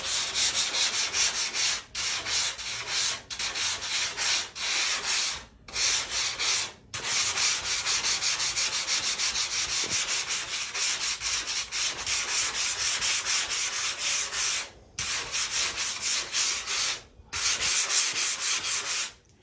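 Hand sanding of a foam surfboard blank, working out a small lump: steady, close scraping strokes in long runs broken by short pauses, with no talking.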